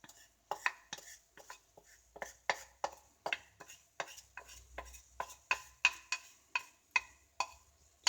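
Spring onions and carrots are tossed in a pan with a utensil, making a quick run of sharp, close clicks and scrapes against the metal in an uneven rhythm, with no voices.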